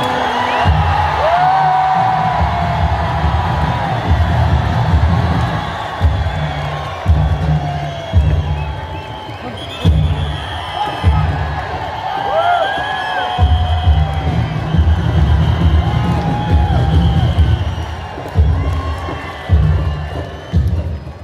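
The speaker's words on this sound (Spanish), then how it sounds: "la gente se vuelve como loca y empieza a gritar y aplaudir" Large crowd at the Wagah border closing ceremony between India and Pakistan, loud sustained shouting, whooping and cheering with rhythmic pulses, whistles and scattered higher cries rising over a constant roar.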